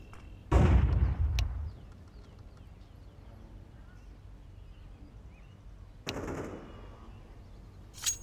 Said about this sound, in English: One shot.